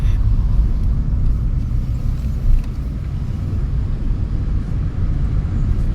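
A car in a driving lesson on a road near Solan gives a steady, loud low engine rumble and road roar from inside the cabin as it picks up speed, with no clear talk over it.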